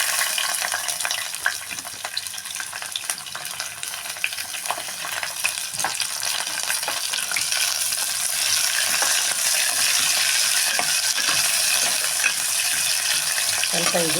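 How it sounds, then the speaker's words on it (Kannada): Onions frying in a little oil for menthya bath, a dense steady sizzle with scraping stirring strokes throughout, growing fuller and louder in the second half, no voices. "ನಾನಿವಾಗ ಈರುಳ್ಳಿ ಹಾಕ್ತಾಯಿದ್ದೀನಿ."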